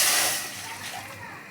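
Water gushes and splashes briefly into a cooking pot, loud at first and then tapering off.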